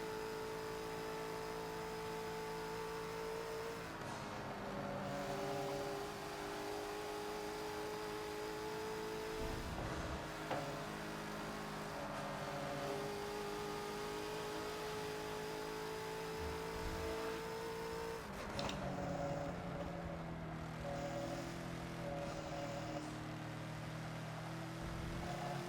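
Bentley GT3 race car in Forza, engine droning steadily through gears with rising pitch and shifts, loud and continuous throughout, no talk.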